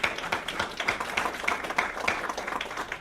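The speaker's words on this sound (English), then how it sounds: "round of applause for Lexent and Sienna" Audience in a conference room applauding the event's sponsors, a dense steady patter of many hands clapping at moderate volume with no talk over it.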